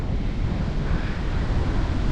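Strong, gusty wind buffets the microphone beside a Lake Michigan tributary during fishing, a steady loud roar of low rumble and hiss lasting throughout with no voices.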